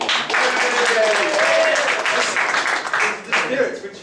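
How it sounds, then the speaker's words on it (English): Applause and clapping from an improv theatre audience, continuous and fairly loud throughout, with voices mixed in. "Clap at us,"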